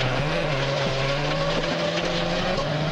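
A Subaru rally car racing on a stage of the Wales Rally, its engine howling steadily at high revs with shifting pitch, close and loud, with no talk over it.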